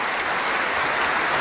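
Theatre audience applauding at the end of a show in a packed hall, a dense, loud, continuous wash of clapping with no break and no voices.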